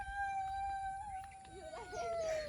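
A sustained, wavering howl-like tone holds steady for a few seconds, likely a human voice imitating a wolf, with faint rustling and distant sounds underneath.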